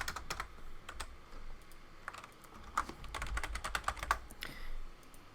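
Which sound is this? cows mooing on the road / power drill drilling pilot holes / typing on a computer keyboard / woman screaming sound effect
typing on a computer keyboard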